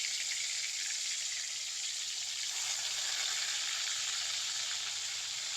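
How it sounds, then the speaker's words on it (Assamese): Local chanda fish frying in hot oil, giving a steady, close, loud sizzle and hiss that holds without a break from start to end and has no speech over it. "এতিয়া মই মাছ দিম। চন্দা, লোকেল মাছ, লোকেল চন্দা। এইটো ধুনীয়াকৈ ফ্ৰাই কৰিম এতিয়া।"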